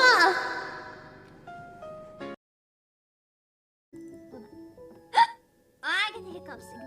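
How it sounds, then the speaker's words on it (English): A man gets the hiccups while streaming, producing a few sudden, sharp vocal hiccups spread across the clip amid bits of his own talk and quiet gaps. "I get the hiccups"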